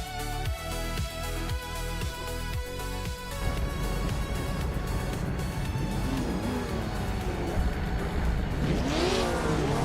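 Engines of AI race cars, including a 1952 Jaguar C-Type, start a video game race at Old Bridge Township Raceway Park; steady loud engine drone with rhythmic revs and rising pitch sweeps, passing cars near the end.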